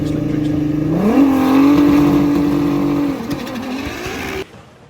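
A Cutthroat Racing Caddy drag car at the VW Drag Racing Club Summer Nationals 2024 qualifying roars loudly with its engine note climbing and holding steady through the run, then dropping away and cutting off near the end.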